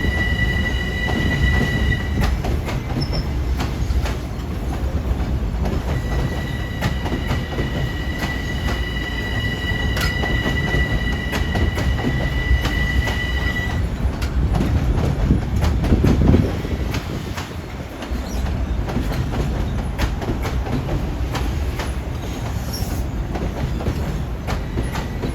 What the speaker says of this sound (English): that equipment train that departed west to New